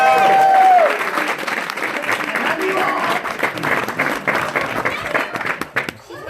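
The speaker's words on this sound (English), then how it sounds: "Huge round of applause to welcome you." A huge round of applause from a convention audience at a My Little Pony voice actor panel fills the room, dense and sustained, with a voice and cheers briefly over the start and the clapping thinning toward the end.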